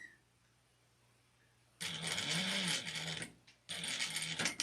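A home sewing machine runs top stitching on an apron in two steady bursts, close and fairly loud, with a brief pause between runs.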